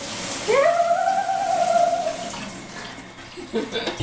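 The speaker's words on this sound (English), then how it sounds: "go rinse the raspberries so we don't get poisoned" Kitchen tap running while raspberries are rinsed, with water gushing and a rising squeal from the faucet pipes, a faint voice in the background.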